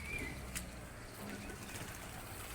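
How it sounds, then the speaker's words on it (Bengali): Many pigeons in a large home flock coo softly with occasional wing flaps, a faint, low murmur of birds heard at a distance. "অনেক কবুতর আছে"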